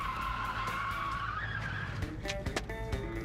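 A conjoined car, two cars joined with the turning axles in the middle, skids around a corner after reaching 40 mph, giving a loud sustained tyre squeal followed by scraping and clattering bursts.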